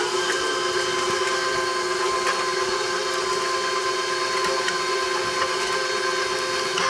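An electric mixer beating sweet potato batter with cinnamon and egg, a steady, close whirring motor hum that runs evenly throughout with faint rattles.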